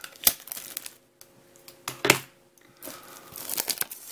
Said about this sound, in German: Dann müssen wir wieder mit der Schere ran.